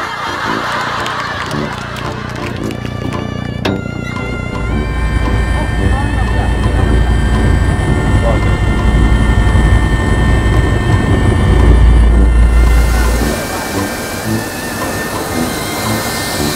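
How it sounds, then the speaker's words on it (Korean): A helicopter approaches as a loud, steady engine and rotor roar that builds over many seconds and then eases slightly, with tonal whines and a mix of voices and background noise around it. "헬리콥터 오고 있어!"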